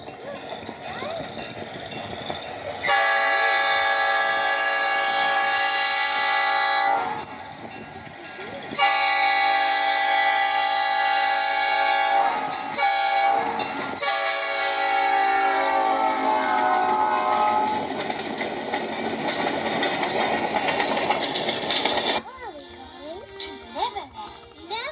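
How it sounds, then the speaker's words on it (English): An Iowa Pacific local excursion train passes close by, its horn sounding in long, loud blasts broken by short gaps over the rumble of the railcars, with the noise trailing off near the end. "Here comes the train"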